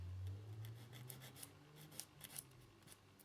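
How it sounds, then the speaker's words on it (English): Light scratchy rasping strokes, close and quiet, repeating in short bursts as a sanding stick rubs against a small hard plastic part of a 1/35 scale MENG Panther tank model. "just get a sanding stick"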